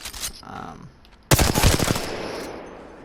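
A burst of automatic gunfire from a video game erupts suddenly after brief talk and faint sounds, rapid-fire shots rattling loudly for under a second before ringing off into a decaying tail.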